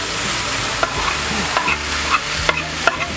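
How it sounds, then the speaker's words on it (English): Chopped vegetables and garlic fry in a pan with a steady sizzle, stirred along by several sharp utensil scrapes and clicks against the pan. "we're just going to throw it in the pan and fry it off"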